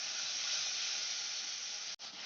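Masala spice paste frying in oil, a dense, loud, steady sizzling hiss close by that cuts off abruptly near the end, with no voices.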